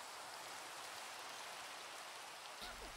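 Steady rain falling in the video game Minecraft, a constant broadband hiss of drops at an even level throughout with no pauses, with a faint low rumble entering near the end.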